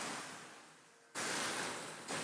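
About half a cup of water is poured into a cooking karahi of Balochi tikka, making a rushing hiss that fades, cuts off and then surges again in a second burst.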